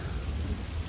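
Steady rain falls in a tiger enclosure, a dense, even hiss with a low rumble underneath, continuous and fairly close for a brief moment.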